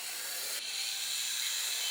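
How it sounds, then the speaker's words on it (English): A power drill bores a hole into a wall while a wall lamp is being installed, giving a continuous, steady high grinding whine up close for the whole stretch, with no talking. "So I started drilling."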